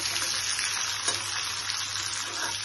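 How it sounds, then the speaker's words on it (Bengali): Cashews and raisins fry in a pan for besan halwa, making a brief, continuous, close-up sizzle at an even level. "একটু ফ্রাই করে নিচ্ছি"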